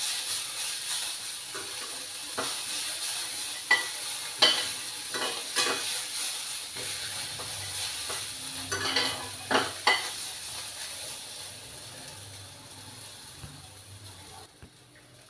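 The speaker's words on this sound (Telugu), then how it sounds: "ఒక 2 నిమిషాలు వేయించుకోవాలి కొత్తిమీర వేసిన తర్వాత." Coriander leaves and peanuts fry in a pan for tomato chutney while a spoon stirs them. Soft continuous sizzling runs under a series of sharp scraping and clinking strokes against the pan.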